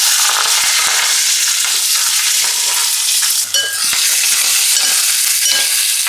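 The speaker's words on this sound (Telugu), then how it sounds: "కొంచెం పసుపు వేసేసి మంచిగా ఇట్లా వేగనివ్వాలి" Onions, green chillies, drumstick and curry leaves fry in a hot oil tempering, a loud, continuous close sizzle with scattered crackles and pops.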